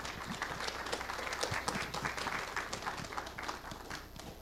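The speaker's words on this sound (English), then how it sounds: "Give him a round of applause" An audience applauds a speaker at a HOPE XI hacker conference talk, a dense, steady wash of many hands clapping that holds for several seconds and then begins to thin, heard from within the room.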